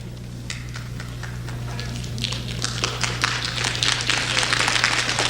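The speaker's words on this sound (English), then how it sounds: "I think that's worth a better clap." Audience clapping at a prosperity preaching session swells in a hall from scattered claps to a fuller, dense round of applause over a steady low hum, with no voices over it.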